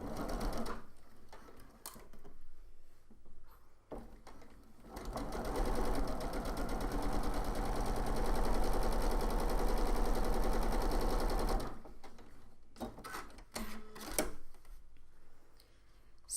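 A sewing machine stitches a quilt seam for flying geese blocks, a steady fast rattle running for several seconds between quieter handling noises and short taps, close by, without talk.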